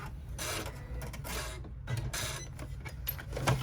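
An embroidery machine stitches a registration mark on a doll-sized rucksack, giving rapid mechanical buzzing bursts with short gaps between them, fairly quiet and close.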